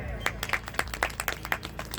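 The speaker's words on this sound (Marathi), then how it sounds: "दादांसाठी टाळ्या द्या." Sparse audience clapping for an honoured elder at a public gathering, a few hands striking in a loose, fairly regular rhythm over a low murmuring background.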